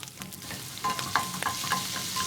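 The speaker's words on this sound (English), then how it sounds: "we're going to let this sizzle up a little bit" Red onion sizzles and crackles in a hot pan, with a busy patter of small pops and a brief stirring scrape, close and moderately loud, no talking.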